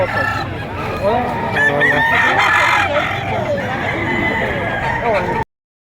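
Several roosters crow loudly and repeatedly, overlapping one another, with clucking hens and faint background voices throughout, at a chicken market in Padre Garcia, Batangas.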